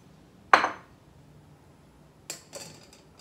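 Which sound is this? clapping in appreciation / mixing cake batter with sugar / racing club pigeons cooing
mixing cake batter with sugar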